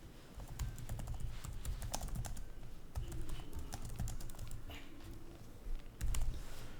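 Steady typing on a computer keyboard, a dense run of quick, irregular key clicks at moderate distance over a low room hum, with a brief louder flurry near the end and no talking.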